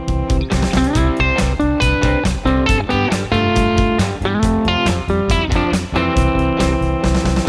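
Electric guitar plays a descending sixes scale from C, sliding between notes over a full backing jam track with drums and chords, steady and loud throughout with no talking.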